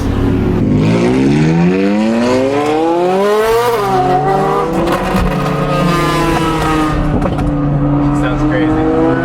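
A Ferrari with a full straight-pipe titanium exhaust revs hard, loud climbing and falling engine harmonics with sharp rev changes and a raspy roar close by, voices talking beneath it.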